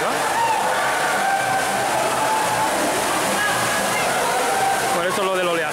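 Water churning in an indoor wave pool at an aquatic park, a loud continuous sloshing rush with splashes, and voices faint underneath.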